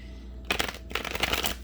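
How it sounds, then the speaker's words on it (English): Guardian Angel Tarot cards are shuffled close to the microphone in two quick riffling bursts separated by a brief pause, soft papery flutters over a quiet room. "And we will get a couple of shuffles in here."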